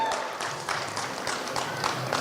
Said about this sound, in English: So big round of applause for Laveen